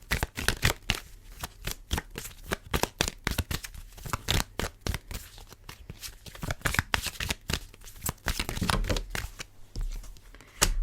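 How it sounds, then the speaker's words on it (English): Oracle cards being handled and shuffled close up, a fast irregular run of crisp riffling snaps and slaps that keeps going, quietly in places, without anyone talking. "So let's pull some more oracle cards."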